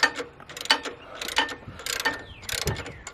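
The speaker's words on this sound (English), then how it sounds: "getting all the floorboard screws out so she'll come off and hang down" Screws are backed out of a floorboard on a Harley Road Glide Special motorcycle, giving close, clicking ratchet-like turns and metallic ticks in quick irregular bursts.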